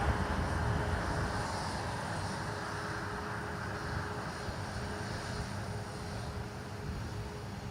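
A Ryanair jet takes off from runway 10 right at Dublin Airport, a steady broad engine roar heard from a distance with a faint tonal hum, continuous and unbroken.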